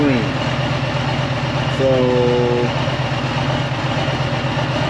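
A Harley-Davidson Street Glide Special engine idles with a steady low rumble throughout, close and continuous, while a person speaks briefly over it.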